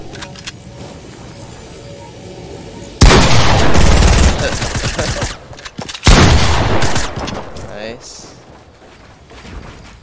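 Loud bursts of rapid gunfire in a shooter video game, two dense volleys separated by a short gap and then tailing off, with voices talking underneath.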